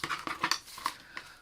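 Scissors trim the excess off a sewn floral quilt piece, producing a handful of quick, crisp snips and clicks, close by and fairly quiet, with no talking.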